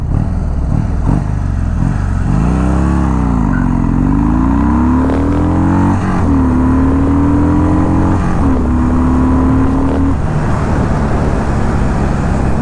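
A Harley-Davidson Dyna Low Rider 103 accelerates hard from a standstill to sixty, its loud engine note rising steadily through gear changes with brief dips between shifts, heard close over constant wind noise.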